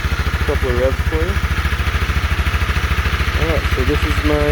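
A 2021 Honda CB300R single-cylinder motorcycle engine pulses at a steady idle, with brief rising blips of revving near the start and again toward the end, heard close and loud.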